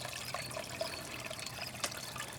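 Water trickles steadily through a small pump-circulated trough in a backyard garden pond with a water lily, a soft continuous splashing flow with a few brief drips rising above it.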